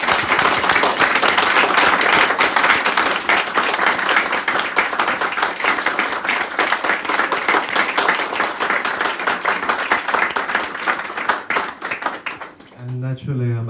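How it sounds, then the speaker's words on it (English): Loud, sustained applause from an audience honouring Professor Serhii Plokhy at a Lithuania–Ukraine event, dense steady clapping filling nearly fourteen seconds before thinning out at the very end. "I want to ask you for a round of applause for Professor Serhii Plokhy"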